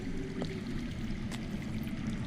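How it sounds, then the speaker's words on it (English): Water flowing underground in the Telltale Game of Thrones video game, a steady, full rushing wash that fills the whole stretch at constant level, with a faint tick or two on top. "That's water. I hear water."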